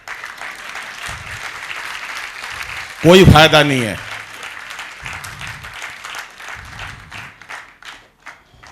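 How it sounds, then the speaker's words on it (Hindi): A small audience at a Hindi poetry recital (kavi sammelan) in Pitampur, Delhi claps sparsely and lightly. Someone speaks briefly in the middle, and a few scattered claps follow near the end. "7-8 लोगों ने ताली बजाई है"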